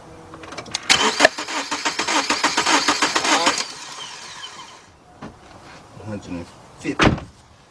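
A 2000 Subaru Impreza Outback 2.2 with a misfire cranks over for a compression test, a rapid rhythmic starter churning for about three seconds, then quieter clicks and a sharp thump.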